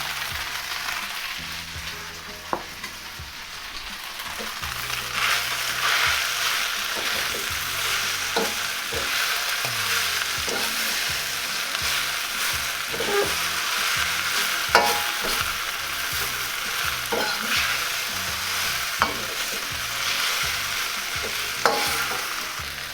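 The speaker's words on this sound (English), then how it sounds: "Throw in my Napa cabbage." Napa cabbage is stir-fried for Shanghai lo mein, with a continuous hissing sizzle under repeated scraping and tossing strokes and an occasional sharper clack from the pan.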